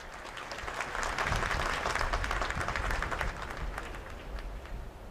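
Applause from an audience at a Ramayana conclave inauguration, a dense and sustained wash of many clapping hands that swells and then holds steady throughout.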